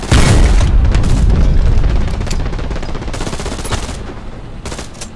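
MG42 machine gun fire from a bunker in the video game Hell Let Loose, a loud, dense, booming rattle of rapid shots up close, continuous and slowly easing off in intensity.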